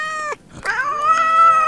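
A cat meows loudly and close by in a sustained, drawn-out call, broken by a short pause before a second long, rising meow.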